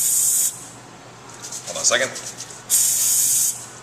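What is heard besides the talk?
Spartan cooking spray greasing a baking pan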